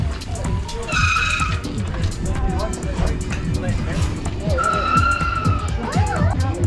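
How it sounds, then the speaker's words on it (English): Bicycle tyres skid at the Tour de Fridge mountain-bike ride in Frankton, giving two drawn-out squealing skids about a second long, one early and one later, over loud outdoor crowd chatter and clattering. "Skids."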